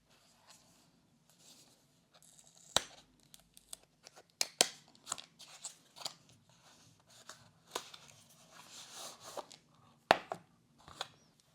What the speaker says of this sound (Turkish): Hemen kutu açılışına geçelim